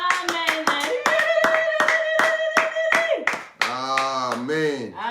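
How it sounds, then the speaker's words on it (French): A church congregation claps in steady rhythm during Sunday worship, loud and close, with singing voices joining in over the final seconds. "Acclamez plus fort pour la gloire de Dieu"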